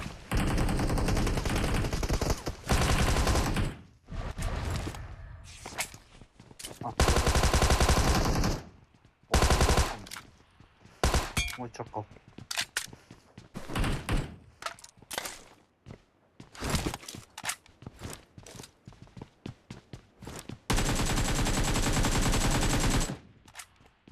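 Machine gun fire from a video game comes in repeated loud bursts, some long and some clipped, separated by short gaps and quieter game sounds, with no voices in between.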